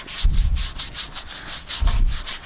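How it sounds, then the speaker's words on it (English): Wood being sanded on a lathe with sanding paste made of lemon oil, beeswax and mineral oil, a rhythmic scratchy rubbing pulsing in quick regular strokes with low thumps, close and loud. "the next step here is to apply some of this sanding paste"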